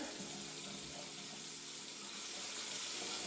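Tap water runs steadily into a sink while a washcloth is soaked, a continuous close hiss of flowing and splashing with no talk.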